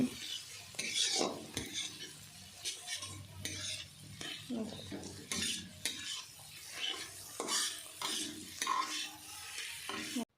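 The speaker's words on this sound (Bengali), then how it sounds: "এরপর সবকটাকে আবারও দেওয়া হয়ে গেলে ভালোভাবে আমি নাড়াচাড়া করে মিশিয়ে নিচ্ছি।" Fish head and cabbage are stirred and mixed in a pan, a continuous close rustle of ladle scraping and clinking against the pan over a light sizzle, moderately quiet, with no speech.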